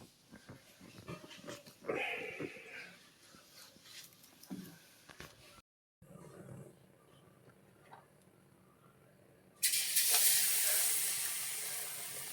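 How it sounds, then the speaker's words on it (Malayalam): Batter-dipped banana pieces hit hot coconut oil and burst into a loud, steady sizzling hiss that rises suddenly near the end, following quieter kitchen clatter and a brief silent gap. "അങ്ങനെ മാവിൽ മുക്കിയിട്ട് പഴം വെളിച്ചെണ്ണയിലേക്ക് ഇടുകയാണ്."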